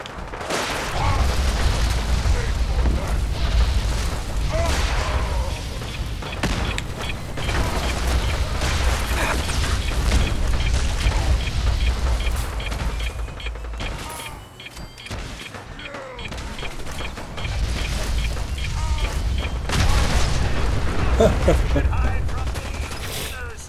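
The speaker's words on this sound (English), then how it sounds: "Oh, he's got a missile launcher." Missile launcher blasts and heavy booms from combat in the video game Fallout 4, a dense continuous barrage of explosions and gunfire with mechanical clatter, loud throughout with a brief dip midway.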